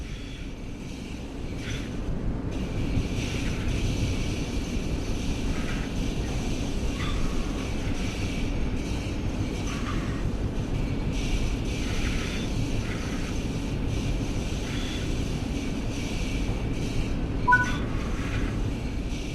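A Long Island Rail Road M9 electric commuter train runs steadily in the Train Sim World 4 game, a continuous rolling rail drone with a constant high electrical whine and occasional brief tones.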